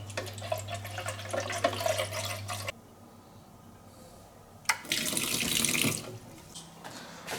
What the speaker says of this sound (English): we fill it with fresh clean water after osmosis